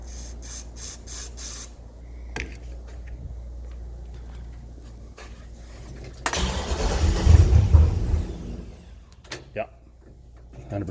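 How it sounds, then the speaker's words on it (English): Brake cleaner is sprayed into the intake of a 1965 Chevy C10 running a 2006 Trailblazer SS powertrain that will not start. One loud hissing burst lasts about three seconds, preceded and followed by scattered clicks and knocks in the shop. "Guess we're going to try a little bit of brake clean, see if it is the VAT system that's not letting her start."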